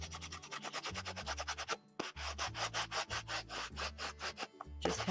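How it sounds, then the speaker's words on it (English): Rapid, rhythmic scratchy rubbing of a fine sanding tool on a painted surface, close and continuous, with short strokes repeating and a brief pause midway. "Just have a little bit of a sanding tool here. This is just a really fine sanding tool."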